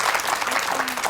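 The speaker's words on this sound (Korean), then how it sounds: "박수 좀 주세요." Brief burst of audience clapping at a Korean university lecture, a steady dense patter filling the whole moment at moderate volume.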